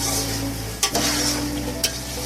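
Boiled potatoes, soft and breaking apart, sautéing in a pan with a steady loud sizzle, broken by two sharp stirring scrapes.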